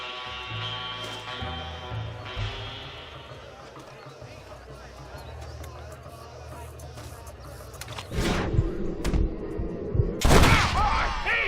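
Gunfire in the Western video game Red Dead Redemption, a burst of sharp shots and impacts over a busy mix of music and game noise, loudest toward the end of the clip.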